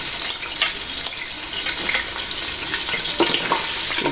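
Diced onion hits hot oil seasoned with seasoning cubes and salt in a pot for Nigerian jollof rice. It makes a loud, steady, close-up sizzle with scattered crackles and stirring noises, and nobody talks.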